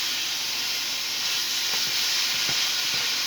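Lean moose meat frying with onions in a pan gives a steady, close sizzle and hiss, with a few faint clinks of a utensil against the pan.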